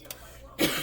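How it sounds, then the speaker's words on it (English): A single short cough bursts out near the end, close and fairly loud, after a quiet stretch with faint background noise. "I haven't coughed like that in a hot minute."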